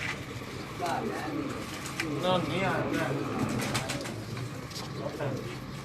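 Pet racing pigeons cooing in a loft, soft rolling throaty coos repeating close by, mixed with someone talking over them.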